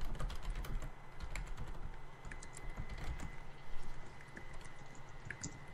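Rapid typing on a computer keyboard clatters steadily and fairly close for several seconds, with uneven bursts of keystrokes and no voices over it.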